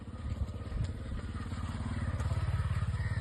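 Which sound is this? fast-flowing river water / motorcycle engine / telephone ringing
motorcycle engine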